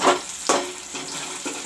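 Onions with bay leaves fry in a pan for chicken curry, giving a close, steady sizzle broken by a few scraping stirs of a spoon.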